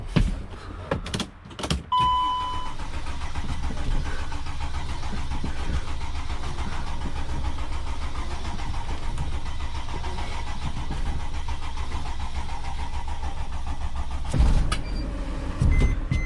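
A Mercedes Sprinter van's engine cranks and catches after a few sharp clicks, then settles into a steady, moderately loud idle that runs on for many seconds before a clatter near the end.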